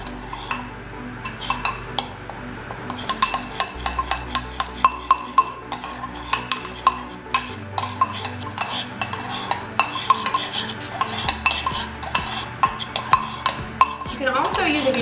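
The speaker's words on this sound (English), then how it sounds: "it's gonna take a little bit of time to stir to get the powder all mixed up" Powdered chocolate sauce mixture stirred in a bowl with a utensil, steady clinking and scraping taps repeating rapidly and close, over a faint low background hum.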